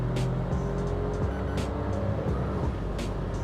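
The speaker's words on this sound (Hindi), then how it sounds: "व्हील स्पिन हुए इसके अभी।" Citroen C3 Aircross accelerating hard with wheel spin, its engine roaring loud and steady with brief tire squeal bursts over a continuous road rumble.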